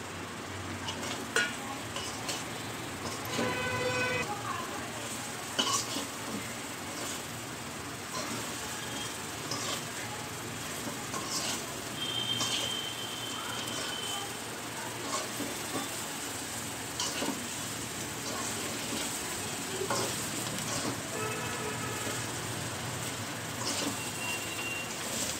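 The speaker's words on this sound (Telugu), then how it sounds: "ఇప్పుడు ఇందులో నూనెలో గోలిచ్చిన ఎగ్స్ ఇందులో వేసుకోవాలి." Fried eggs tossed in hot oil for Egg 65, with a continuous soft sizzle under scattered clinks and scrapes of a utensil stirring against the pan, moderately quiet and close.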